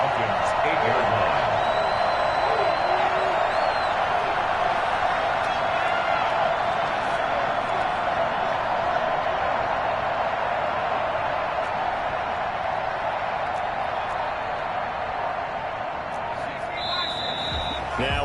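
Steady roar of a home stadium crowd at a football game with the Vikings near the goal line, a dense, even wall of cheering and noise lasting throughout, with faint bursts on top.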